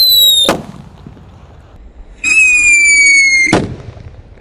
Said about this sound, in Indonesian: Whistling Thunder di dalam paralon